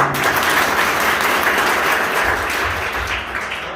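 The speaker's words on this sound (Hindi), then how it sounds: "एक बार सभी को ताली बजाओ।" A gathering at a religious discourse with a Jain acharya breaks into steady, full applause, a dense wash of many hands clapping continuously and fairly close.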